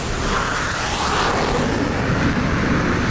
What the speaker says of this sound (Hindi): वो रहा विमान।